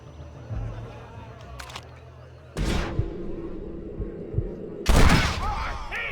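Gunfight in the western video game Red Dead Redemption, with loud gunshot bursts and heavy booming blasts over a steady rumble, close and dominant, with voices talking at times.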